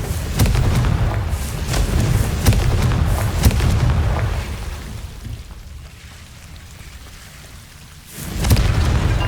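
Confringo spell blasts in Hogwarts Legacy: heavy booming explosions with crackling, rain-like debris, loud for several seconds, easing into a quieter stretch before another burst near the end.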